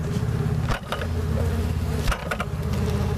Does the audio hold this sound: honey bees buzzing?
yes